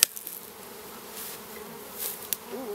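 A bee swarm in Waycross, Georgia hums as a steady, close drone, with a few faint clicks over it and no voices.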